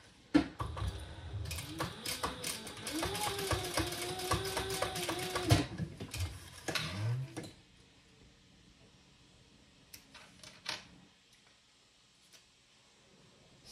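A sewing machine runs a single row of stitching across a small tote bag, a fast, close, whirring rattle lasting several seconds. Then it stops, leaving faint handling clicks and near silence.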